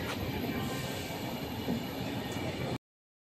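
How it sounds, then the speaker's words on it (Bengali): A Gomoh-shed WAP7 electric locomotive hauls the 13152 Kolkata Express between Durgapur and Kolkata, heard from inside a coach as a steady, close rumble and rattle of running train that cuts off abruptly near the end. "আজকে আমাদের লোকোমোটিভ হচ্ছে গোমো WAP7,"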